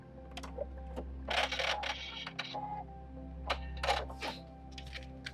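Sewing machine stitching a paper-pieced quilt block: close, rhythmic mechanical clatter in short runs over a steady low motor hum, with quiet pauses between bursts.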